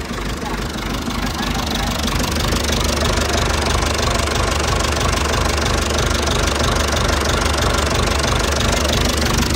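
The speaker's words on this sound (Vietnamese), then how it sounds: "Các bạn nghe tiếng máy không?" A Massey Ferguson MF 165 tractor diesel runs at a steady idle nearby, a loud, even, rhythmic knocking chug that continues without a break.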